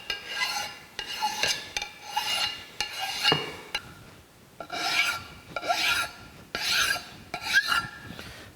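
A hand file rasps along the sharp edges of a metal camelback straightedge, deburring it in a series of rhythmic back-and-forth strokes with brief pauses between them, close and crisp with no voices.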